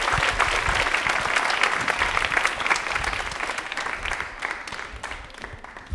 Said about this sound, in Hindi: अक्षाइनी के लिए तालियां एक बार जोरदार हो जाएं